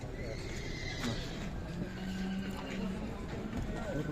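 Horses at a livestock market, a distinct neigh rising out of a dense crowd din with hoof clatter and voices talking throughout.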